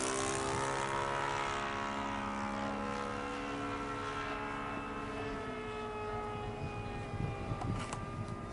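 A radio-controlled Hobby-Lobby F/A-18 ducted-fan model jet on its maiden flight, a steady high whine with shifting tonal lines that drifts in pitch as it passes, continuous and fairly close, with no talk.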